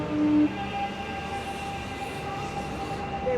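A train at Mordialloc station gives a brief sounding at the start, then hums and whines steadily nearby, with tonal electrical notes over a low rumble and no voices.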